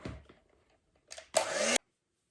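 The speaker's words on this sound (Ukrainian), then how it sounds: "І знову збиваємо. Збиваємо до білої маси." An electric mixer whips an egg and sugar mixture with vanilla until it turns white. Two short whirring bursts sound close by, the second louder and steadier, then the mixer cuts off into silence.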